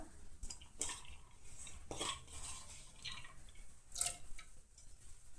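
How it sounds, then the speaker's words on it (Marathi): Dal that has been washed twice goes into a cooking pot, giving faint clinks of a spoon against metal and soft wet plops, scattered irregularly with quiet gaps between. "आतां भितर दाळ ऍड करतलें"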